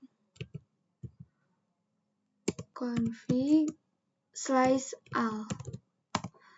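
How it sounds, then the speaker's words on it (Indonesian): Someone types the ipconfig command on a computer keyboard: a few sparse, faint key clicks, mostly under a person speaking nearby. "lalu kita bandingkan dengan cara ketik ipconfig"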